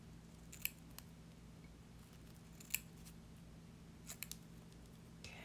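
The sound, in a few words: cutting a small piece of lace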